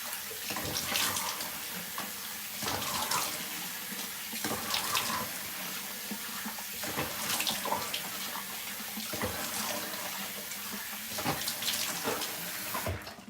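Tap water runs steadily into a sink for a stretch while someone rinses an exfoliating face scrub off, a continuous close splashing hiss with no talking.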